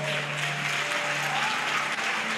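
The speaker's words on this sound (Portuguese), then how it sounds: "Aplauda Jesus." An audience applauds in a dense, even burst of clapping that holds at a constant level, with a low steady tone humming underneath.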